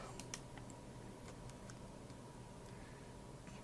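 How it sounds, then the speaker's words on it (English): Quiet, irregular clicking of keys being pressed on a computer keyboard while working in Blender, a few crisp taps scattered across a soft background hiss. "Hit the A key so it selects all of it."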